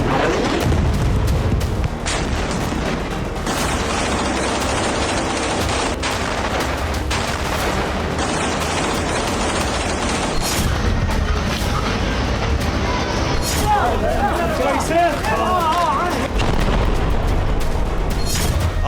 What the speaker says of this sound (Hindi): आसमान से मिसाइल गिरी और हमास का ऑपरेशनल बेस तबाह हो गया।